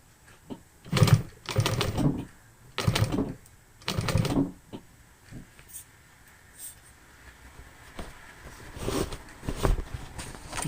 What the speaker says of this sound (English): even though I'm using an industrial sewing machine